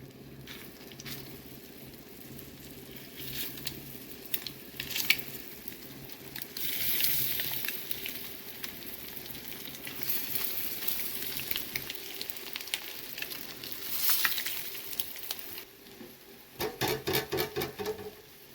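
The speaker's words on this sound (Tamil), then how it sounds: "நல்லா ஃப்ரை ஆகட்டும் சிம்மிலே வச்சுக்கோங்க" Eggs frying in oil with spiced masala and fennel powder over a low flame give a steady, close sizzle and crackle that swells and fades over several seconds, with faint stirring near the end.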